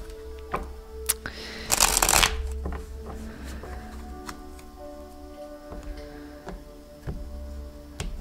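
Tarot cards being shuffled by hand, crisp riffling bursts with a loud flurry early on, amid scattered clicks and taps, with no speech.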